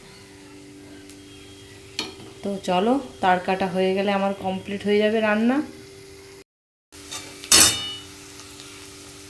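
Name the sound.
frying lentil fritters (bora) sizzling in a pan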